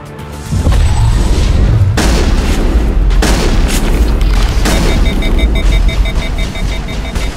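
Heavy gunfire and booming impacts from a firefight in Mass Effect on Virmire, loud and continuous, with a dense sustained roar of shots and blasts after a brief quiet opening.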